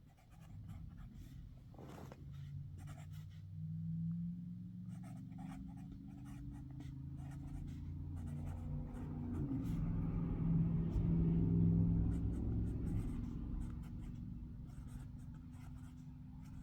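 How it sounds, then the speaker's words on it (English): Pen writing by hand, upside down, scratching softly and steadily across paper during a painting-themed brain dump, under a constant low rumble like a passing car or engine in the background. "I am writing upside down"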